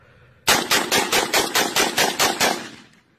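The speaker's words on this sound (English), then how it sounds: "It's the sound of a 40 millimeter going off right there." Rapid burst of about a dozen evenly spaced booming reports from a 40 millimeter grenade launcher, loud and close, firing in a steady rhythm for roughly two and a half seconds before cutting off.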